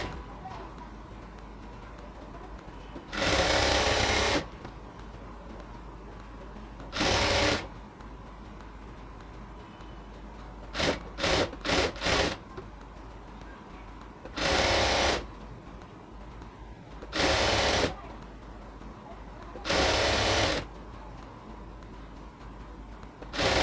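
A sewing machine stitches ladies' pant fabric in a series of short, loud bursts, some in a quick run of several stops and starts, separated by quieter pauses with faint background noise.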